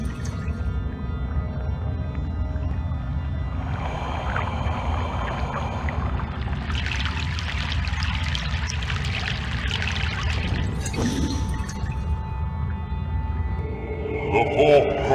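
Boat crossing a river in the Egyptian section of Broken Sword 3: The Sleeping Dragon, with steady low water sloshing and pouring swells that rise in the middle, mixed with faint game music and no talking.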